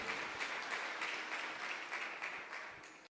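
Applause from a church congregation during a testimony service, a steady broadband wash of clapping at moderate distance that runs nearly the whole time before cutting off abruptly at the end.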